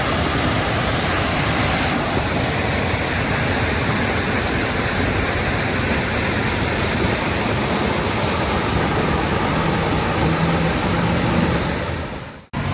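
Dry Run Creek, a catch-and-release stream below the dam at Quarry Park in Arkansas, rushes loudly and steadily with a dense broadband roar that holds unchanged until a sudden cutoff at the end.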